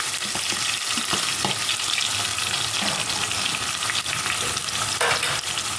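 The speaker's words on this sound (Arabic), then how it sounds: "شوح كله مع بعضيه" Chopped onion fries in rendered meat fat in a pan, a loud dense sizzle heard close, with spoon stirring and scraping throughout.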